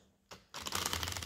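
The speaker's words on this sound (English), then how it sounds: "one more shuffle" A quick papery riffle of cards being shuffled close by, a brief burst followed by a longer continuous flutter of card edges.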